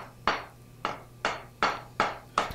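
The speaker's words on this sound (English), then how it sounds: "hammering right down into that groove" Six evenly spaced metal hammer blows on a 1/8 inch rod drive soft annealed copper leaf down into a groove, each strike sharp, close and distinct, with a short ring that fades before the next.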